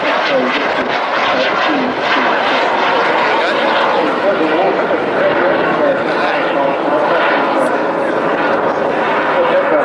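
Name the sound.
propeller aircraft flying at an air display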